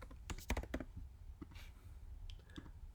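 Keys clack on a keyboard as an email is typed, a quick burst of crisp clicks followed by sparser, softer taps in a quiet room.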